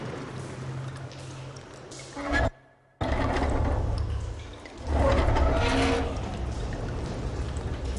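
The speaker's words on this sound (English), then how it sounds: "Aloy, I can hear water in the room again" Water rushing and flowing through a room in the Horizon Forbidden West game, a steady pouring gush that cuts out briefly, then returns and swells, loud and continuous.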